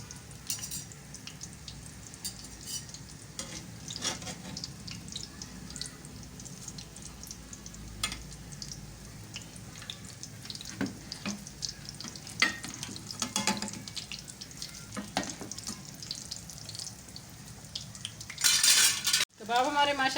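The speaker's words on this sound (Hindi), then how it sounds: "बहुत आराम से आप 2 चम्मच की मदद से इनको टर्न कर लेंगे। फ्लेम हमारा मीडियम लो पे है।" Potato chicken kebabs fry in oil over a medium-low flame with a steady soft sizzle, while two spoons clink and scrape against the pan as the pieces are turned, close and continuous.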